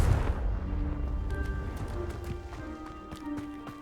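A Confringo fire spell cast in Hogwarts Legacy bursts out as a deep, booming blast at the start, then its rumble fades under a steady tonal music bed.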